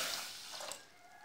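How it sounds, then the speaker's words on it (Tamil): Water poured into a cooking vessel holding fried ingredients for making leaf kolukattai, a steady splashing flow that is moderately quiet and tapers off near the end, with no voices; the vessel is then closed with a plain lid, not a cooker lid. "தண்ணி ஊற்றி"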